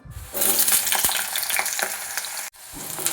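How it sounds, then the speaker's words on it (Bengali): Cut potatoes hit hot oil already crackling with nigella seeds and dried chillies, setting off a loud, continuous sizzle with a few brief scraping stirs and a momentary break near the end. "এর মধ্যে দিয়ে দেবো কেটে রাখা আলু"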